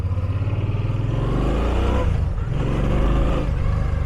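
A 2014 Suzuki Boulevard C50T (VL800) V-twin cruiser pulls away under throttle, its deep loud engine throbbing steadily, with a brief dip in pitch as the revs shift before climbing again.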